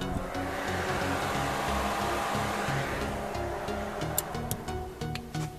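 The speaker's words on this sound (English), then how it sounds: "this is my radiator fans." Radiator fans on a Jeep fitted with an off-road setup and hardwired fans run with a steady, loud whooshing roar. A broad airy rush holds throughout, with a low rumbling hum underneath and a few brief high clicks near the end.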